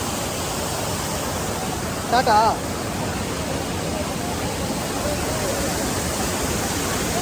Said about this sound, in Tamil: அந்த ஃபால்ஸ்லேருந்து வர சாரல் இங்கே வரையும் அடிக்குது.